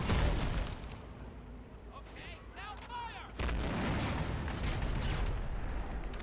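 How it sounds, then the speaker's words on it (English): Mortar shells and artillery fire strike defensive positions during a WWII battle at Tobruk in 1941 in Men of War: Assault Squad 2, a dense rumbling barrage of booms and gunfire with a louder impact surge partway through. "Ooh, and getting hit too by what would be more than likely the mortar"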